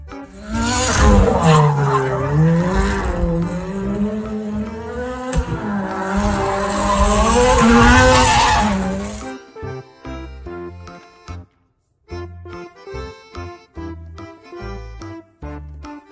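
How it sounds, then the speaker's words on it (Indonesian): A race car engine roars and whines up and down as it speeds past, close and loud, then abruptly gives way to upbeat music. "Mobil balap."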